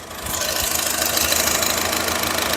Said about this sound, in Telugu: ఇంజిన్ చాలా స్మూత్గా ఉంది సార్.